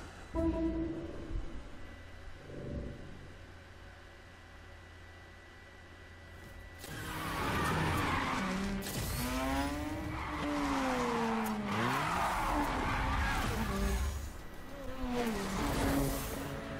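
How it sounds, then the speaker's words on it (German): A car drifts in the racing game Need for Speed Heat, its tires squealing in long, loud, wavering skids over a roaring engine after a quieter opening stretch, with no talking. "Und jetzt geht's erstmal ab in den Drift."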